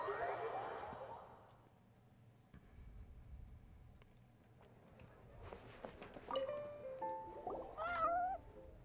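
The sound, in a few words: cats meowing in video game Genshin Impact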